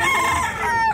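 Chickens at a poultry farm cluck and call continuously at close range, several birds overlapping in a dense, busy chorus with a rooster-like crow mixed in.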